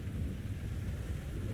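Thunder rolls low through a steady rainstorm, a deep continuous rumble under the hiss of falling rain.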